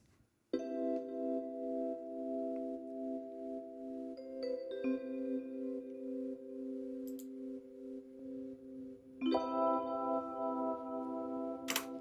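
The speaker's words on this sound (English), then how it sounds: "we're going to get some, like, reduced highs, and we're going to get a warble on it, like a warped record kind of sound" A synth chord in an Ableton production passes through a tape emulator, which adds a warped-record warble and dulls the highs. Sustained harmonic tones hold steady and change pitch twice, and they sound close and alone.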